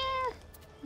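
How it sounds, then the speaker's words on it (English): A single short cat meow rings out in the video game Avatar: Frontiers of Pandora, bright and tonal with a falling tail, followed by quiet game ambience. "My cat."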